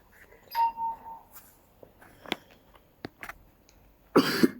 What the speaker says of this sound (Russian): Нормально, я могу музыку кашлем сделать.